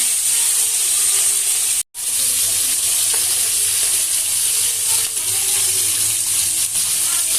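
Pieces of rohu fish fry in a pan with a loud, steady hiss and sizzle that cuts out for an instant near the two-second mark, then carries on evenly.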